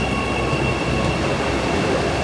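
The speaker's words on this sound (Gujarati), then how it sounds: "આવી રેલગાડી છે કંઈ" A local train pulling into an Indian railway station, with a continuous loud rumble of rolling carriages and a faint high wheel squeal running throughout.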